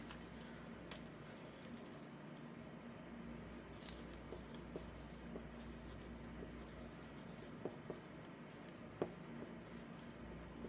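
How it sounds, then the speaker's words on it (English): A marker squeaks and scratches across a plastic sugar cookie bag in short strokes with brief pauses, close and fairly quiet against a low steady room hum. "We're gonna mark the bag."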